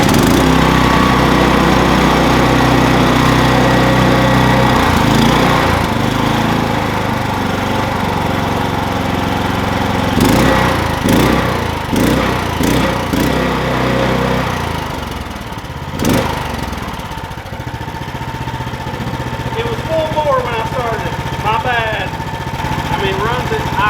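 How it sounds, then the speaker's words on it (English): A Duromax 439cc engine running on propane drones steadily and loudly throughout, with uneven knocks and rattles partway through and a person talking over it. "engine hooked up to propane, and we also hooked a battery up to this one, so I'm going to pull start it"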